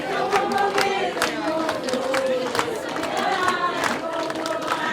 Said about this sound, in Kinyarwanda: Nitumukomera ayo mashyi